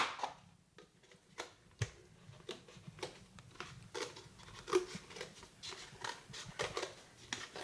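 Cutting a hole in the middle of a masking tape form for a paper mache Greek amphora: a series of quiet, dry snips and crinkles at a steady, uneven rhythm, close up and fairly faint, with no talking.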